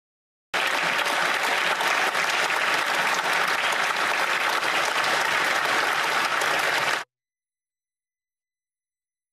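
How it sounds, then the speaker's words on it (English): Conservative members in parliament giving dense, sustained applause for several seconds, loud and even, ending abruptly into silence. "They were shouting, they were clapping."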